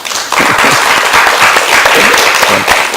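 A church congregation claps to welcome visiting guests: loud, close, continuous applause from a gathered group that lasts about three seconds.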